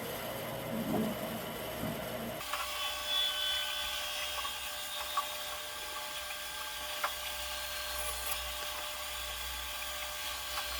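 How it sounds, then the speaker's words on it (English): A bandsaw cuts a log blank for a carved three-legged bowl, giving a steady, mid-level whirring drone with a faint whine that holds throughout after a brief louder start, with no talking. "the log is going to hit like the upper part of the bandsaw and not allow me to push it through"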